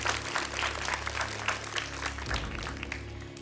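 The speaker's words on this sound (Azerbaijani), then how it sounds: "Ülvi İbadovu alqışlayırıq." Studio audience at the Azerbaijani quiz show Əlaçı applauds a contestant, a steady, dense wash of clapping that holds for a few seconds with a brief swell near the end.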